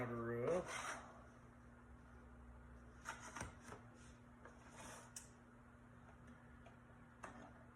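Homemade bread being sliced along a slicer guide, giving soft rasping, sawing strokes and light ticks at an even pace, close and fairly quiet, with a brief louder scrape at the start.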